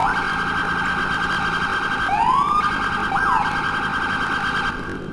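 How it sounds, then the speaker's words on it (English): Police and EMS vehicle sirens sound in the emergency-services video game EmergeNYC. A loud, steady electronic tone is broken by quick rising yelp sweeps, and the sound fades slightly at the end with no voices. "so I'm just trying out all the different sirens."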